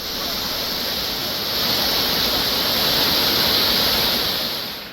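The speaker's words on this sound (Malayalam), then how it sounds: "മാമലക്കണ്ടത്തേക്കുള്ള വഴികളിൽ നിറയെ ഇത്തരം വെള്ളച്ചാട്ടങ്ങളാണ് ഉള്ളത്." Waterfall beside the road to Mamalakandam in Idukki, a steady roaring rush of falling water, broadband and continuous, swelling slightly midway with no voices.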